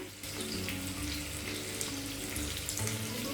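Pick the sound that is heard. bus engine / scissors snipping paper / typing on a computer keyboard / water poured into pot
water poured into pot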